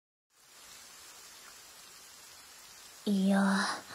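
Steady rain ambience from the Japanese idol game Shiny Colors, a soft even hiss that runs on alone, with a brief sound entering near the end.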